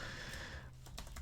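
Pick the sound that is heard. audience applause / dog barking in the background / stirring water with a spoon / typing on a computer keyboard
typing on a computer keyboard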